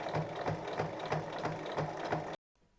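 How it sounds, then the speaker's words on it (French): Sewing machine topstitching all around the edge of a fabric bag, a steady rhythmic mechanical whirr with regular needle pulses for about two seconds before stopping abruptly. "On fait ensuite une surpiqûre tout autour."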